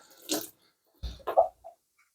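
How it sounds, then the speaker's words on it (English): Hands being washed under a running kitchen tap after handling sticky dried fruit: a brief spatter of water, a pause, then a few short splashes and rubbing sounds, close and quiet. "I'm just going to wash my hands."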